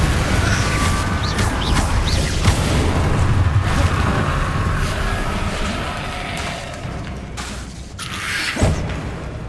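Repeated booming blasts of the Confringo fire spell in the video game Hogwarts Legacy, loud and close, thudding over a dense rumbling battle din with no talk.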